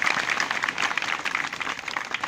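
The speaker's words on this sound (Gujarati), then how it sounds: "આ દીકરીને આપણે જબરદસ્ત તાળીઓના ગડગડાટથી વધાવી લઈએ." An audience applauding a girl's speech at a Republic Day event, dense and fairly loud clapping that continues without a break.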